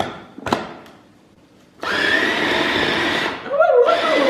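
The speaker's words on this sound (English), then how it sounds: "We're going to blend this up." After a brief knock and a quiet pause, a small kitchen blender starts up loudly to purée tomato with water, running as a steady whirring drone that dips briefly as the load shifts and then resumes.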